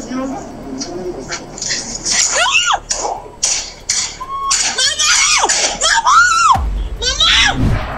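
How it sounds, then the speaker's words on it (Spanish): A daughter screams in terror during a shooting, with piercing, wavering shrieks and cries that rise and fall repeatedly alongside frantic childlike vocalizing, loud and close, ending with a sudden low thump. "Y por supuesto al final los gritos de desesperación,"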